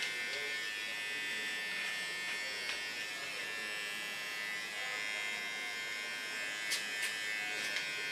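Battery-powered hair clipper cutting hair for an ultra short platinum hairstyle, a steady close electric buzz running unbroken throughout with faint background voice.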